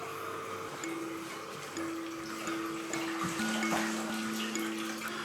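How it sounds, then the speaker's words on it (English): Water draining through a hose from a marine aquarium during a water change, a steady soft gurgling rush with faint tonal whistles, fairly quiet and unbroken. "So I'm just going to open up our hose, we'll follow it to the drain"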